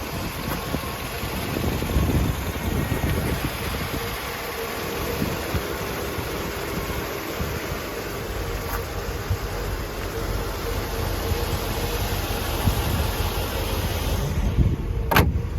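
A 1984 Mercedes-Benz 380 SL with its 3.8-litre V8 in original condition runs steadily at idle, a continuous low rumble heard close up with no voices.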